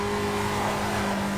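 A car engine revving hard in fourth gear while drifting in the racing video game Need for Speed: Carbon, a steady, loud, strained drone held throughout the brief moment with no pause.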